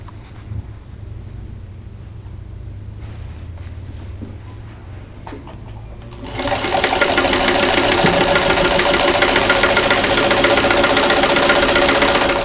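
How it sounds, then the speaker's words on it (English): A sewing machine stitches quilt pieces together, with faint handling sounds at first, then a loud, fast, even whirring hum that kicks in partway and runs steadily to the end. "So I'm going to sew these together in sets of 2."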